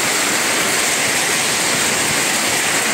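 A heavy downpour, with rain falling in a dense, steady hiss, loud and close, with no talk.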